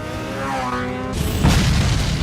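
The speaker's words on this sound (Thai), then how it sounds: "ไอ้ที่ถูกยิงถังน้ำมันตรงนั้นก็มาระเบิดตรงนี้แหละครับ" A deep boom bursts out after a tonal, engine-like whine as a shot fuel tank explodes in a Mission: Impossible 2 movie scene, followed by a rumbling, crackling blast that sustains loudly to the end.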